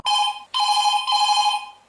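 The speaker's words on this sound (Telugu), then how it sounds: "ఫోన్ రింగ్ అవుతుంది ఎత్తరా" A telephone rings loudly and close in two steady electronic bursts separated by a brief gap, with no talking.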